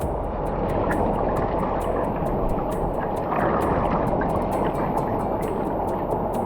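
Clear river water at Sungai Bantang near Bekok rushes and gurgles in a constant close wash of noise at a camping spot, with no pauses.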